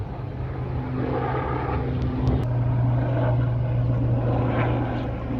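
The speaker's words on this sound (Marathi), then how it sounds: "हे विमान आहे" A low, droning engine hum of an airplane passing overhead in Andheri West, Mumbai, moderately loud with a faint tonal whine, some distant background noise mixed in.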